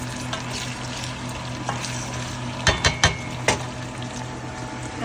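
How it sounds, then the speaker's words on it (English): Salmon, tilapia and potato being stirred together in a frying pan, with a steady sizzle of frying underneath and a few sharp utensil scrapes and clinks against the pan midway. "let's stir them all together"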